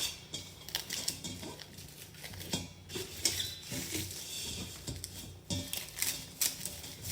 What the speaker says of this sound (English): All right, here comes my saran wrap.